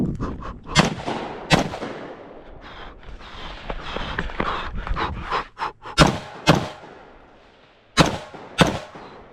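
AR-15 rifle shots fired at yard-sign targets on an outdoor range, several sharp loud cracks in pairs and singles with brief pauses between, over a rumbling background.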